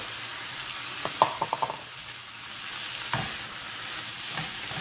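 Meat and tomatoes for lasagne fry in a pan, a soft steady sizzle with a quick burst of spoon clinks and stirring taps early on and another tap later.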